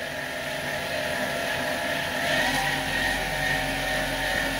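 A mini lathe converted to a servo motor spins its spindle at top speed, giving a steady close mechanical whine and hum with a slight rise partway through and no voices.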